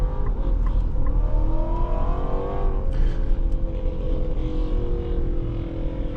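A 2025 Infiniti QX80 SUV accelerates hard in hot weather, its engine a loud, steady, rising drone heard from inside the cabin, with no talk.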